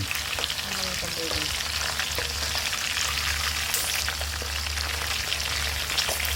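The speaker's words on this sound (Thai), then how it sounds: "ต้องระวังนะครับเวลาทอดอาจจะเกิดอุบัติเหตุได้นะครับ เพราะมันกระเด็นเนาะ" Sun-dried pork frying in hot oil, a steady dense sizzle with crackling spatters and occasional stirring, loud and close with no voices.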